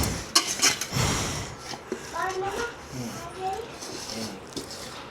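Cooked rice being mixed by hand in a metal bowl makes close scraping and clinking scrapes in short bursts, heard under a woman's speech.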